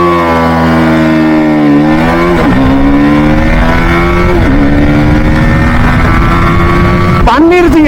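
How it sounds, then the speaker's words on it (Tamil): A BMW G 310 GS motorcycle accelerates hard from a standstill toward 100, its engine note climbing through several gear changes with brief dips between shifts, loud and close amid strong wind noise. "அதுக்குள்ளே 0 to 100 பண்ணுதான்னு பார்ப்போம் இந்த வண்டி"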